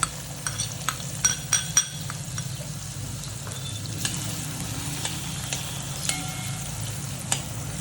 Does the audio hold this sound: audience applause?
no